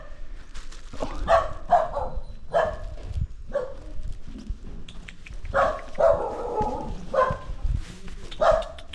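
Dogs at Hidimba Temple in Sattal bark in short, repeated bursts, some loud and close and others farther off, with occasional faint voices between the barks.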